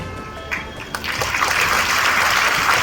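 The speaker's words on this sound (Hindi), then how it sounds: "तालियां बजते रहे।" Applause breaks out at a school event, starting with a few scattered claps and swelling into loud, sustained clapping from a crowd.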